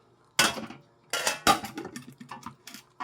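A small, well-cleaned metal kawali frying pan more than 18 years old is handled and set down, giving several sharp clanks and rattles in short bursts with quiet gaps between them. No one speaks.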